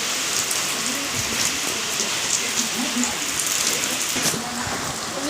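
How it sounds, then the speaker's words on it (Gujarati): Steady rain pours down in a dense, even hiss, with a few heavier patters and gusts running through it. "લો વરસાદ આવે બહુ નથી આવતો"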